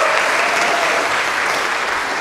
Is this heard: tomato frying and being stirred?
no